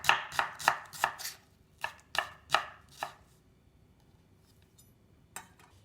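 A knife slices an onion thinly for a tuna and green bean salad, giving a quick run of about nine crisp, close chopping strikes. The cuts stop, a brief quiet follows, and then one last cut lands.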